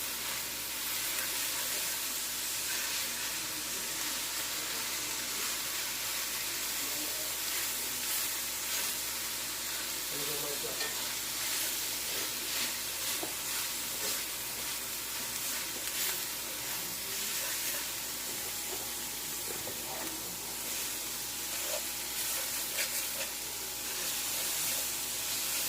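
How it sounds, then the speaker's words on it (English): Steak and chicken breast fajita meat sizzling in a hot pan, a steady, loud, continuous crackling hiss that holds throughout with no voices. "can y'all hear the sizzle?"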